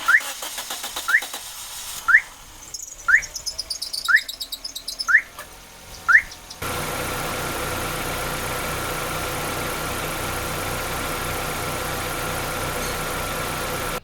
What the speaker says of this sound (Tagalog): Papaandarin ko na yung makina